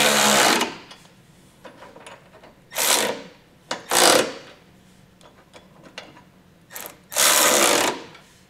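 A socket wrench snugs up the bolts of an etrailer hitch receiver on a 2022 Ford Escape, heard as several loud, close bursts of ratcheting separated by quiet pauses.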